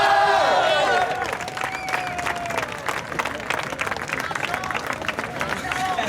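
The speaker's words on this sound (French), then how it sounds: "Et on peut faire un tonnerre d'applaudissements pour les boss" An audience gives a thunderous round of applause for the winning bosses of the apprentice competition, dense clapping and crowd noise running steadily, with cheering and scattered voices mixed into the continuous din.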